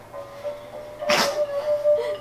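A single sharp sneeze bursts out midway, close and fairly loud, over a steady faint electronic tone in the background.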